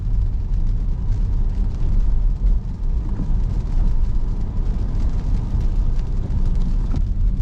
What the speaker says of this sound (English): hit the gas a little bit, like floor it.